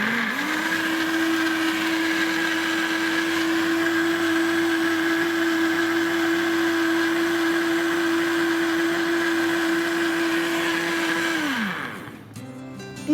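A Singer blender motor runs steadily and loudly while blending apple and lemon juice, holding a constant whine for about twelve seconds before spinning down and stopping.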